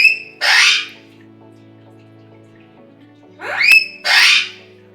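A pet bird gives two loud, harsh squawks, one near the start and one near the end, with quiet in between and a faint steady hum underneath.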